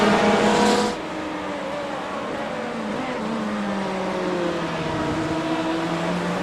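Hypercars racing at Sebring in a 12-hour endurance racing game: a sharp engine roar cuts off, then sustained engine drone follows with a car overtaking close by, pitch gliding down as it passes.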